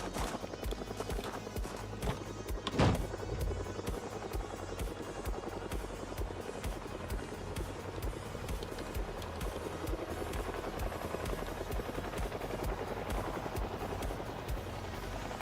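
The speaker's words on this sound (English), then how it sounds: "It's a helicopter event." A video game helicopter event brings a loud, continuous rotor thump and engine whine throughout, with scattered bursts of what sounds like gunfire in the mix.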